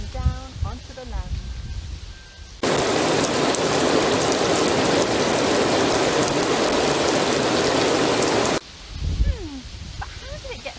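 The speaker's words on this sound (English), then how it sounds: "it falls down to the earth as rain, crashing down onto the land." Heavy rain roars down in a dense, steady downpour for several seconds, with a voice talking just before and after it.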